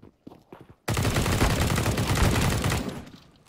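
Gunfire in the video game CS:GO: after a few scattered clicks and faint sounds, a loud, rapid burst of automatic fire rattles continuously for about two seconds, then trails off.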